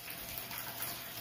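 Hot water running from a tap into a bath, a faint steady splashing trickle with no voices over it.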